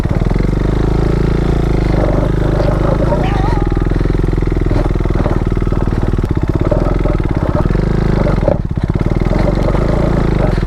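A KTM Duke 390 motorcycle engine runs loud and close with a steady rough idle and small revs while the bike is stuck on a bad road and being pushed, with people talking over the engine throughout.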